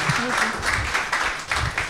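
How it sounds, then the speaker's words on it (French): Audience applause at a communications conference session in Libreville, a steady wash of clapping across the whole stretch with some low voice-like sounds mixed in underneath. "Je crois qu'on peut vraiment l'applaudir pour elle."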